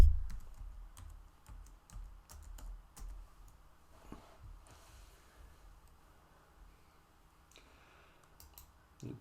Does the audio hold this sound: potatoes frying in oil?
no